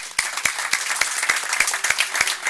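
Audience at a board of trustees regular meeting applauds, a steady wash of many hands with a few sharper individual claps standing out every so often, close and continuous without talk.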